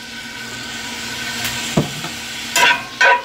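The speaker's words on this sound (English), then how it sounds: "we're just going to go ahead and add the lobster." Lobster meat sizzles in melted butter in a cast iron pan, a steady low frying hiss with a soft thud as pieces go in and a couple of louder bursts of stirring near the end.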